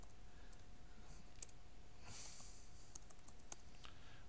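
Quiet, close keyboard typing of a username and password on a computer, a run of light, uneven clicks and taps against a faint background hum.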